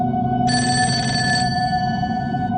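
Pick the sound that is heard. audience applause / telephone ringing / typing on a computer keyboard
telephone ringing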